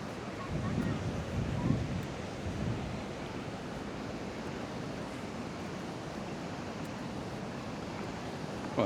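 Steady wind buffets the microphone over rolling surf on Paguera beach in Mallorca, a constant broadband roar with a couple of louder gusts early on and a faint voice underneath.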